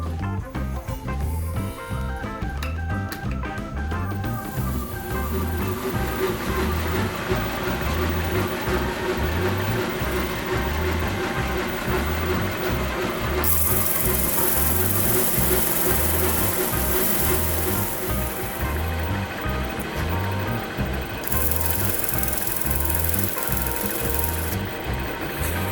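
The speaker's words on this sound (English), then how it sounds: "I'm going to use the disc sander to go ahead and flatten it out" A disc sander attachment on a 2x72 grinder flattens knife handle scales, giving a steady, loud mechanical hum with a rapid rhythmic pulse throughout and a brighter grinding whine for a few seconds when the workpiece is pressed on.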